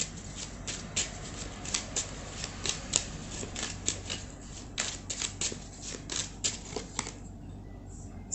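Tarot cards being shuffled and drawn, a run of crisp, close flicking and slapping card sounds in uneven bursts, fairly quiet and alone with no talking.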